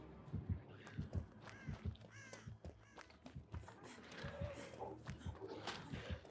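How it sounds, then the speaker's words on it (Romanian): Crows caw repeatedly in Dead by Daylight, harsh calls scattered among footsteps and other game sounds, with faint talk underneath. "Are ciorile puse, ești nebun."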